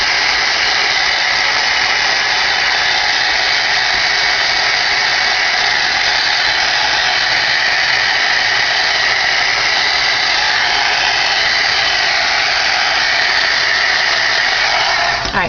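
A hair dryer blows steadily and loudly at close range, drying Tattered Angels Glimmer Mist sprayed on paper, with a constant airy whir and a slight shift in tone near the end.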